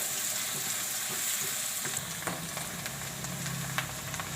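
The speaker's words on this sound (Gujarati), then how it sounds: "ડુંગળીને આપણે ગોલ્ડન બ્રાઉન જેવી થવા દેવું" Sliced onions sizzle steadily in hot oil in a home kitchen pan while fenugreek and chana dal curry is cooked, with a continuous hiss and a few faint stirring scrapes and pops.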